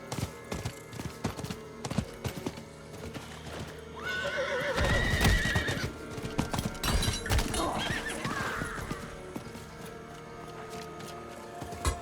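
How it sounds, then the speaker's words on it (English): In the action role-playing game Diablo IV, a horse neighs loudly in the middle while galloping hooves clop steadily and run throughout, amid game ambience with almost no talk. "The horse makes a huge difference there."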